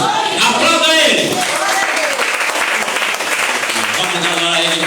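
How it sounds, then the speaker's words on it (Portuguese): A church congregation applauds during a worship service, a loud, sustained wash of clapping filling the room, with voices and some tonal sound mixed in beneath it throughout. "Aplauda Ele."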